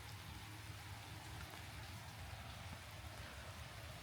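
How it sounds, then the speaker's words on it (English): Steady rain falls on a windless day at a lakeside cabin, an even, constant hiss of drops on surfaces with no voices, soft and unbroken throughout. "Good day for some boating, huh? Steady rain and no wind."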